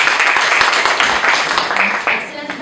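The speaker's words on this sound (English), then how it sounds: "So clap for Karim's team." An audience claps for a team, a brisk run of many hands clapping fairly close by, with a voice talking over the clapping.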